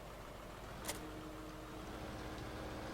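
A more powerful tractor engine in Farming Simulator 15 hums at a steady, low idle-like drone, quiet and continuous, with a brief faint click near the start and no voices.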